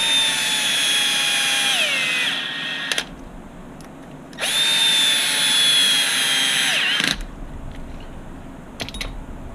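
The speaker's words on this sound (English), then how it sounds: "you're going to need a good drill because our plastic is extremely tight." A powerful drill drives screws into very tight plastic while building an HB Racing D817V2 buggy: two long, loud high whines that bog down under load, each ending abruptly, with clicks and handling noise between.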